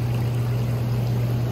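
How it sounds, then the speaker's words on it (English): The waterfall feature on a Hot Springs Envoy hot tub runs steadily, a close continuous rush of falling water over a low, constant pump hum. "Nice little waterfall you can turn off or on."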